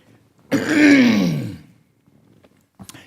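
A single harsh, throaty cough-like clearing of the throat, close and fairly loud, lasting about a second, followed by quiet and a faint click.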